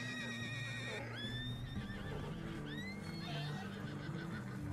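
A horse in Red Dead Redemption 2 whinnies loudly several times with rising and falling neighs, over a steady game-like background and faint hoof clopping.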